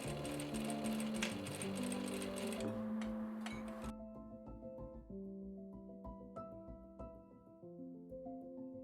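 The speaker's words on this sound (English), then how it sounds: "I'm gonna secure the pocket to the front by backstitching on the right side." A sewing machine backstitches a pocket onto the front of a dress, running in a steady close stitching whir that shifts pace and tone partway through, with no talk over it.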